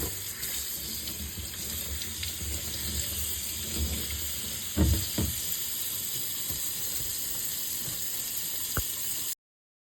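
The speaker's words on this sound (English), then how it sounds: "I also prefer rinsing off my pineapple before I cut it up to put it in chunks in the freezer bag." Tap water runs steadily over a whole pineapple being rinsed in a kitchen sink, a continuous close faucet hiss with a few brief splashes and knocks as the fruit is handled, then it stops.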